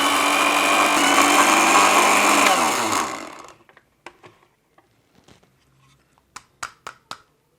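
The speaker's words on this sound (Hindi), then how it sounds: "इस पाउडर को इस मशीन में डालने के बाद इसको ग्राइंड कर लें आप अच्छी तरीके से" An electric grinder whirs loudly and steadily as it grinds coarse herbal powder for a hair-care remedy, then winds down and stops after about three seconds, leaving faint scattered clicks and taps.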